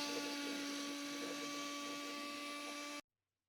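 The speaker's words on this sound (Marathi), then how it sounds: "आता हे आपण मिक्सरमध्ये टाकून वाटून घेऊया चटणी" A mixer grinder whirs as it grinds chutney, a steady, loud, high-pitched electric drone that runs unbroken for about three seconds and then cuts off abruptly into silence.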